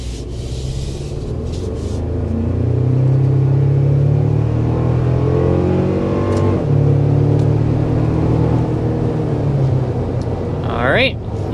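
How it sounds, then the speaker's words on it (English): A 2025 Toyota Tacoma Limited midsize truck accelerates hard toward 60 mph, heard from the cabin as a rising engine drone with steady road rumble that builds, dips at a shift, then climbs again. "we want to go ahead and start with a hard acceleration."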